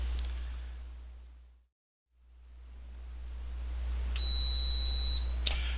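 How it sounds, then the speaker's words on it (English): A VC 5000-Ci (VS 900) commercial steam cleaner gives a single clear, high, steady beep lasting about a second when switched on, rising out of a low electrical hum and soft noise. "make sure when you turn on first button, the one on the left, you hear a clear tone"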